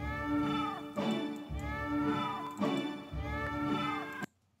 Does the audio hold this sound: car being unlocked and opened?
no